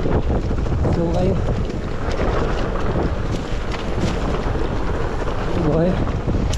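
A small boat motor runs over water on a coastal route near Cebu, Philippines, giving a loud, steady engine drone mixed with heavy wind buffeting on the microphone and brief voices calling out.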